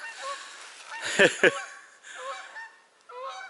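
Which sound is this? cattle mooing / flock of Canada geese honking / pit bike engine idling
flock of Canada geese honking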